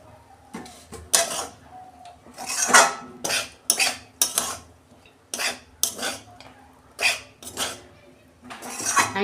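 Semolina upma being tipped out of a cooking pan, with metal utensils clinking and scraping in irregular, close-up bursts of sharp taps and no talking.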